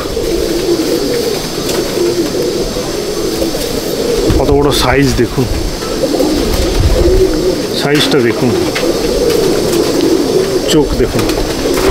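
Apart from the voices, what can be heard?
pigeons cooing in a loft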